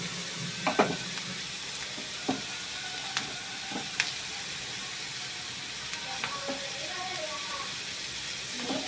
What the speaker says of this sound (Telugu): ఆనియన్స్ కాస్త ఫ్రై అయ్యింది కదా, ఇప్పుడైతే ఇంకా దీనిలో కాస్తంత అల్లం వెల్లుల్లి పేస్ట్,